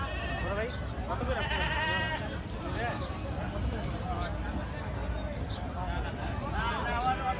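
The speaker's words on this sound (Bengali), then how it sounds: "রাম ছাগল আছে এখানে জোড়া।" Goat bleats from paired ram chagol goats ring out repeatedly across a busy cattle market ahead of Eid, rising above constant crowd chatter and people talking nearby.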